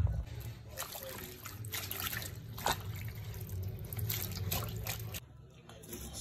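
Lettuce rinsed under running water at a kitchen sink in Mozambique, a soft continuous trickle and splash with faint handling noises, fairly quiet and close, ending abruptly.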